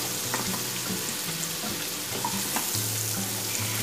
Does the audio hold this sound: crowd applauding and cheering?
no